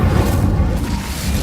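A fiery Incendio spell cast in Hogwarts Legacy erupts as a loud, dense, rumbling burst that fills the whole short moment with no voices over it.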